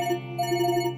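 A phone ringtone for an incoming call plays as a short, steady melodic electronic tone pattern that repeats through the whole second at moderate loudness, with no voices.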